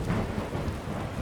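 Rain and distant rolling thunder in the Skyrim video game, a continuous soft wash of rainfall with low rumbling, faint and brief.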